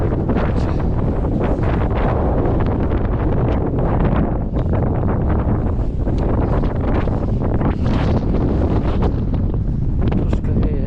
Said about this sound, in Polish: Troszkę wieje